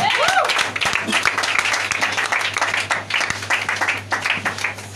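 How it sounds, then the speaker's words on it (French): A church congregation claps and cheers in praise of Jesus, a dense steady patter of many hands mixed with voices calling out throughout. "Acclame très fort Jésus"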